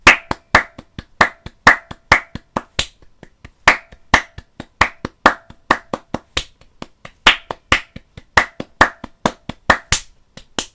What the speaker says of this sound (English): This time I'll leave out the count and clap in every subdivision with my beat.